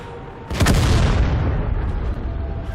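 A tank cannon in World of Tanks fires once with a loud, sharp boom, followed by a long rumbling roar that fades slowly, close and alone with no talk.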